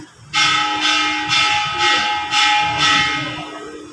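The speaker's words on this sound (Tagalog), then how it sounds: "Sige, magtugtog pa ako ng kampana." A chapel bell rings repeatedly in a steady rhythm before Sunday Mass, about six strokes with ringing overtones that linger between them, fairly loud and close.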